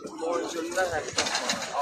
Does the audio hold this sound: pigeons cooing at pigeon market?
yes